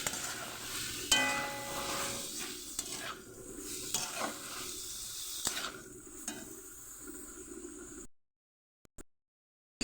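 Grated soybean mixture stirred and frying in a pan for soybean cutlets, with steady sizzling under scraping and stirring strokes of a spatula, close by, then a sudden cut to near silence near the end.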